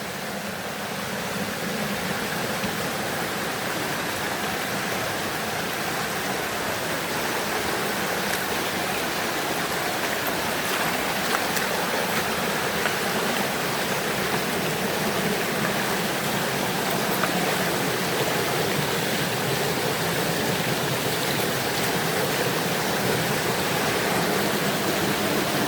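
A river stream rushes steadily on a trek to the Curug Cipadaranten waterfalls, a loud, continuous broadband wash of flowing water that holds unbroken for the whole stretch with no voices.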